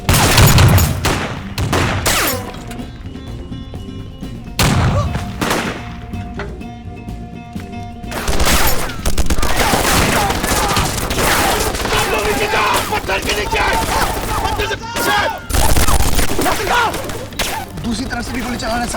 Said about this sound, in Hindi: start the machine gun fire